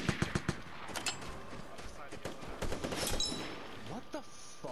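Gunfire in a video game, including a Remington shotgun, cracks out in a quick cluster of sharp shots at the start, followed by sparser, fainter reports and background clatter, with a voice faintly present.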